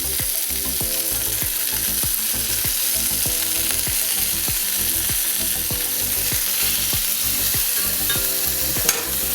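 Halloumi and bacon fry in a pan for a cheeseburger, giving a loud, steady, close sizzle with fine crackling pops throughout.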